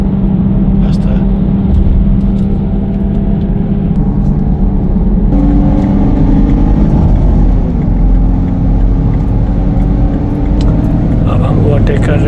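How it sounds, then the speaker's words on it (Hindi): Car accelerating hard while overtaking buses on a road in Kakheti, a loud, steady engine and road roar heard from inside the vehicle, rising in pitch, with a voice talking over it. "अब हम ओवरटेक कर रहे हैं फास्ट से, बसेस को क्रॉस करेंगे"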